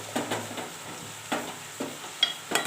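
Tomatoes and greens sauté in a pan, cooking down for a nourishing breakfast dish: soft sizzling with several separate scraping stir strokes, close and fairly quiet, with no talking.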